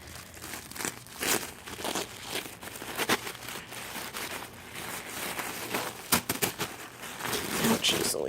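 Pink tissue paper crinkles and rustles in repeated close bursts as clothing from a Nadine West box is unwrapped, with a voice speaking briefly.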